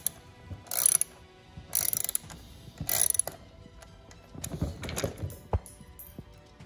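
Ratcheting tool backing screws out of a car fuel line harness on an Audi/VW intake manifold, several quick bursts of rapid clicking with pauses between, close and fairly quiet, no speech.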